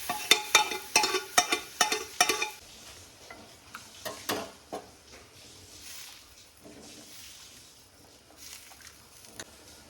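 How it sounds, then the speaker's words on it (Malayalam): Shallots, curry leaves and chicken masala tempering for a curry in a home kitchen, with a burst of sharp sizzling spits and stirring clatters at the start, then a quieter steady frying hiss with occasional knocks. "ചെറിയുള്ളിയും അതുപോലെ കറിവേപ്പും പിന്നെ ഒരു ഇത്തിരി ചിക്കൻ മസാലയും കൂട്ടിക്കാണ്ടാണ് കേട്ടോ ഞാൻ തൂമിച്ചെടുക്കുന്നത്"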